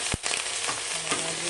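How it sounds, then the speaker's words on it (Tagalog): Shrimp sautéing in a hot pan, a dense continuous sizzle with a soft stirring scrape near the start, close and alone. "Igisa ko na lang din yung hipon natin."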